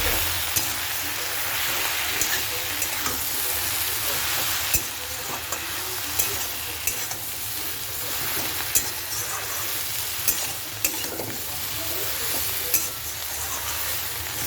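A spiced mixture with Kashmiri chilli powder fries in oil in a big wok, giving a loud continuous sizzle with repeated sharp clicks and scrapes of a spatula stirring throughout, close up.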